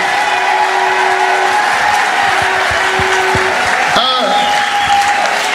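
A church service congregation applauds and cheers loudly and steadily, a dense wash of clapping with voices rising through it and a brief shout near the end.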